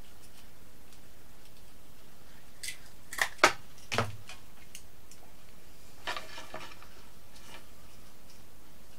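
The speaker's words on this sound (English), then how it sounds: "So the first thing we'll do is we'll start and cut the tap root off." A cherry tree bonsai has its tap root cut, with a few crisp, close snips clustered together and then another light cut after a pause in an otherwise quiet space.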